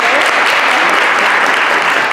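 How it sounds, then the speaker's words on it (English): An audience at a school board meeting gives a round of applause, dense steady clapping filling the room close and loud throughout. "We can give him a round of applause."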